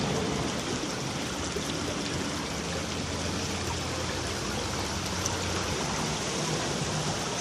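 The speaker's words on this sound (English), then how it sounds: "Nice water flowing." Water flows continuously by the seashore in Ocho Rios, Jamaica, a steady broadband rush with no break, fairly close and uniform throughout.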